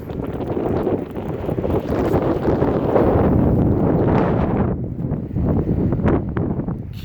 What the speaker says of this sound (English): Man, it's windy outside.